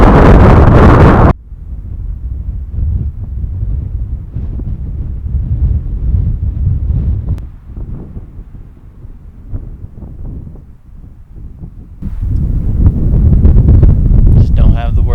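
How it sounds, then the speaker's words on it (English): Very high wind buffeting a microphone on a mountainside in Wyoming at about 10,000 feet, loud and continuous, with heavy gusts roaring at the start and end and a lower steady rumble between. "very high wind"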